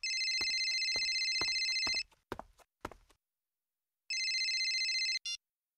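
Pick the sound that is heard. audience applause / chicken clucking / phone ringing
phone ringing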